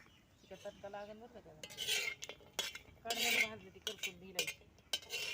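Chilies for a ghati masala roasting in a pan, heard as bursts of metal spoon scraping and clinking against the pan, uneven and close, with a faint voice early on.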